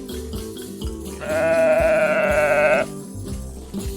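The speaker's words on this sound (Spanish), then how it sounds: "Oveja." A single sheep gives one long, wavering bleat that rings loud and clear over a bouncy repeating backing tune, then the music continues alone.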